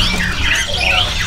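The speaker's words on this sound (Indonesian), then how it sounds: "Jadi burung ini suaranya luar biasa." Loud, harsh squawking from a bird at a crowded bird market in Pramuka, repeating through the moment in close range over a constant background of other birds.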